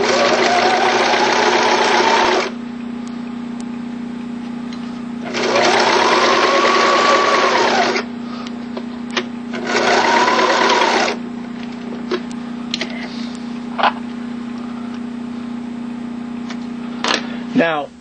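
A sewing machine stitching a line along a fabric seam, three loud, steady whirring runs of a few seconds each separated by pauses with small clicks, over a constant hum.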